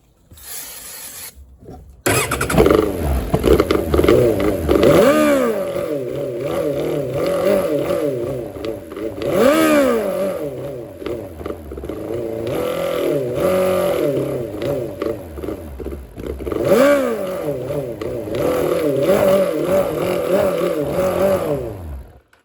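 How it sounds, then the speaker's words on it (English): A Suzuki GSX600F motorcycle engine with a running fault revs repeatedly while sprayed with brake cleaner, rising and falling in loud surging bursts over a steady idle, close by and with no voices. "the engine revs up with the brake cleaner, which means there is some problem now"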